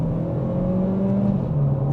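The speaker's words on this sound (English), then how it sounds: "second gear pull" An Audi A3 Black Edition 1.5 TFSI accelerates hard in second gear, a steady loud engine drone with rising tones and road noise, heard from inside the car with no talking.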